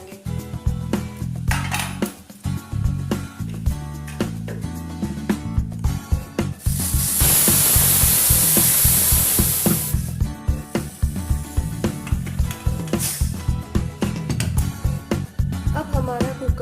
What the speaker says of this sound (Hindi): 2 से 3 सीटी होने तक इसे हम पकाएंगे।